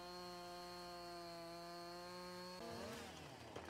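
A chainsaw in the Farming Simulator 22 game drones with a steady buzzing whine, then shifts into a rougher, wavering tone as it bites into an oak tree, fairly quiet and with no voices.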